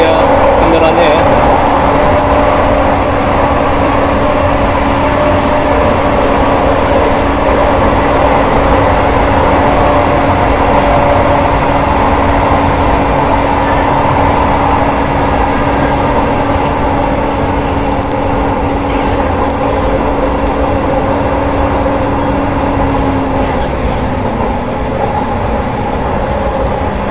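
Steady rumble and rail hum from inside an LRT train riding at night through Jakarta, with a long sustained tone as another train passes alongside; continuous and fairly loud, no talk.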